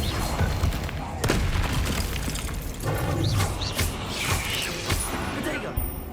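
Confringo spell cast in Hogwarts Legacy, a blast of booming, crackling bursts and impacts layered over game sound, with a voice partly mixed in.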